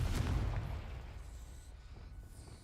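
Confringo, an explosive spell in a Harry Potter video game, lands as a single deep boom with a sharp onset that rolls into a low rumbling decay, close and moderately loud, with no other sound.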